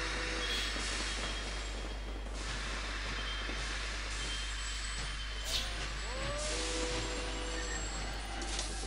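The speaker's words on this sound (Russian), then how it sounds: "Вот такой паровозик будет здесь ездить." A steam locomotive runs along the track in the railway strategy game Sid Meier's Railroads, a steady rumbling rail noise with faint hissing bursts and a few squealing tones that carries on for the whole stretch without talk.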